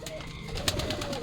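A pigeon coos softly in a short, quiet burst, alongside the bird's low, throaty calls.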